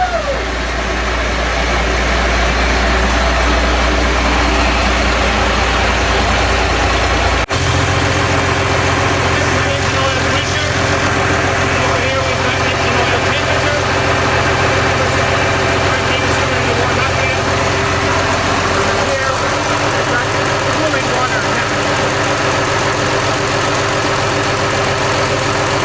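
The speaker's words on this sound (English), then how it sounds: "Now that's a Gardner. First crank, first time." A Gardner engine fires on the first crank and settles into a loud, close, steady idle with a deep continuous rumble.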